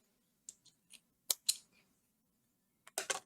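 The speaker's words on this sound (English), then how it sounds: "So I need to cut this yarn" Scissors snip through crochet yarn in a few sharp, close clicks, spaced irregularly with quiet gaps and a quick double snip at the end, soft overall and with no talk.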